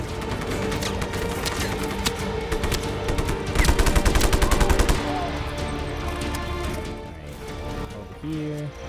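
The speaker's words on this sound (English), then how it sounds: "Who is shooting me?" Gunfire from the video game Just Cause 3 crackles in steady bursts and rapid automatic volleys over a dense game soundscape, peaking in a sustained burst midway.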